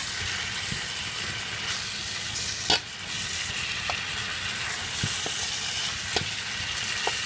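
Vegetable achards sizzle steadily in a hot pan, close up, with occasional scrapes and clacks of a spoon stirring through the frying mixture.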